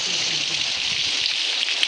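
Steady monsoon rain in a Konkan village, a dense, even hiss of drops on surfaces lasting throughout, close and fairly loud with no talking.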